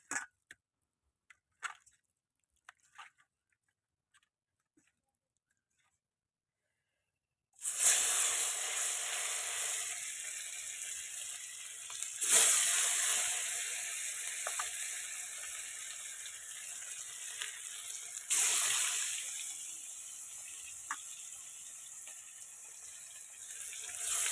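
Silver carp fish pieces sizzle and hiss loudly after they drop into hot oil in a pan. The sound cuts in abruptly after a few faint clicks and stays as a steady, close frying crackle with brief surges.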